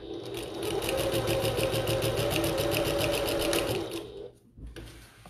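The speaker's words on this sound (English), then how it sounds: "So I'm sewing this at 1/8 of an inch seam allowance." A sewing machine stitches a seam on a bucket tote at a steady, even running pace for about four seconds, then stops; faint talk is heard near the end.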